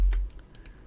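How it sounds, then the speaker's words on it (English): A few quick, light keystrokes on a computer keyboard click close by after a brief low thump, sparse and irregular, with no talking. "typing in the file path for the image"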